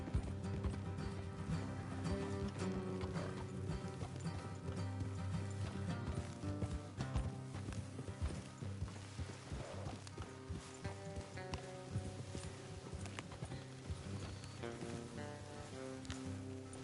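Horses clip-clopping along a road in the video game Red Dead Redemption 2, a steady run of hoofbeats under a layer of game music and ambience.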